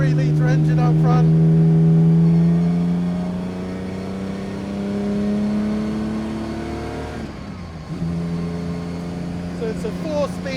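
1954 Aston Martin DB2/4 with its 3-litre straight-six up front, a loud steady drone that climbs through the revs, eases off, then picks up again after a gear change, heard from inside the car; a person talks briefly at the start.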